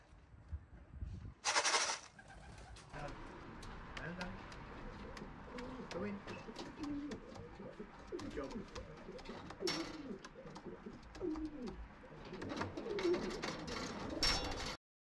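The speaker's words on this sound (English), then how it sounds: "Here is what's left of our young birds this year." Racing pigeons coo softly and repeatedly inside a loft, low burbling calls overlapping one another, with a brief loud rustle or flutter early on and occasional sharp knocks.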